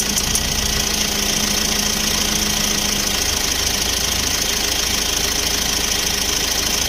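A vehicle engine idles steadily with a constant mechanical hum and vibration, close and continuous, during work on modified electrical wiring, with no talking.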